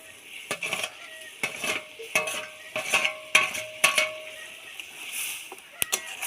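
Prawns go into a simmering Bengali prawn curry (chingri macher jhal) and are stirred, giving repeated metallic clinks and scrapes of a spoon against the pan over a soft bubbling sizzle, close and without talk.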